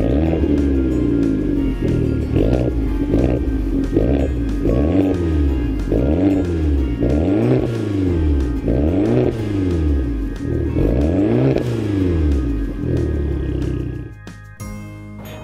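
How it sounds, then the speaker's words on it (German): An Alfa Romeo Giulietta engine revs repeatedly, about ten rising and falling sweeps in a steady rhythm, a loud, close growl that rises and drops back each time before settling near the end. "der Sound von diesem Motor, vor allem im Vergleich zu seinen 2-Liter Turbo-Konkurrenten,"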